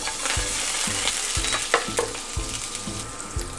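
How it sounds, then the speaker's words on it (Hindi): Chopped ginger frying in hot oil in a pan, a close, steady sizzle broken by rhythmic scraping strokes of stirring, about two each second, with no talk. "तेल जब गर्म हो जाए तब हम इसमें डालेंगे 1 टीस्पून अदरक कटी हुई"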